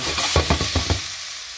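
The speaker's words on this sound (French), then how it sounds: "Voilà, donc là ils sont bien poêlés." Peppers with ginger sauté in a frying pan, a soft sizzle broken by about five quick stirring clatters of a utensil against the pan, close and alone.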